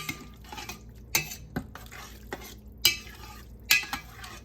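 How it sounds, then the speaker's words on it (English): Coconut masoor dahl stirred in a pot over lowered heat, with a spoon scraping and knocking against the metal in a few sharp strokes over a soft sizzle. "I'm going to lower the heat down a little bit more and give it a good mix"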